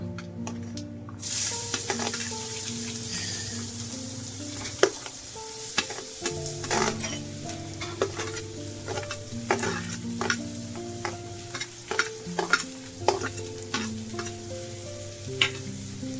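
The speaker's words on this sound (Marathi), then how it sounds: "कांदा चांगला भाजून घेऊया" Onion frying in a pan during preparation of a veg keema dosa filling, with a continuous sizzle broken by frequent, irregular spatula scrapes and clicks against the pan, close and moderately quiet, with no voices.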